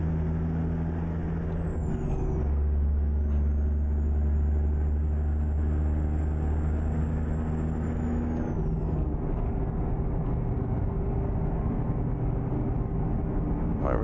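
A heavy truck and trailer on Smarties 24/5 tyres cruises in American Truck Simulator near East Glacier, Montana, a steady low engine drone with a high whine, an air-brake hiss near the start and again around nine seconds.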